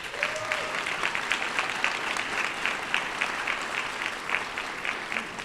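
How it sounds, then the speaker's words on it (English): Graduation ceremony audience clapping for school graduates, a sustained, even wash of many hands with a faint brief tone near the start, moderately loud and continuous. "Let's give these academic scholars one more round of applause."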